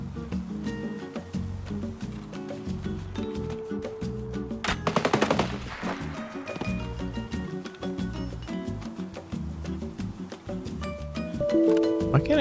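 Gunfire rings out in the Escape from Tarkov video game: a dense burst of rapid shots cuts through midway over steady background music, with quieter sporadic cracks around it.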